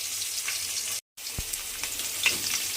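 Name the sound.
fish frying on one side in a pan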